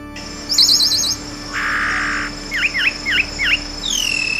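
A thrush (sabiá) perched on a branch calls in a series of bright, close chirps and warbled phrases, with short pauses between them, used as an audiobook sound effect.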